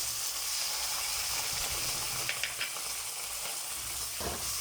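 Chopped onion and fermented black beans fry in a pan with a close, steady sizzle, broken near the middle by a few sharp spatula clicks and a brief stirring scrape toward the end, with no voices.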